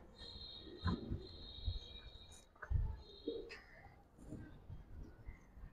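Pigeons coo softly in short low bursts at an irregular pace, fairly near but quiet, over faint background noise.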